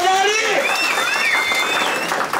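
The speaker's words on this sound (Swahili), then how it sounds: "Wapi makofi tafadhali?" A crowd at a National Construction Authority certificate ceremony for construction workers in Nyamira applauds in a continuous wash of clapping, while a high, wavering voice rings out loudly over it.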